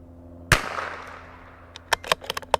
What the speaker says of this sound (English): we're going to shoot 2 5-shot groups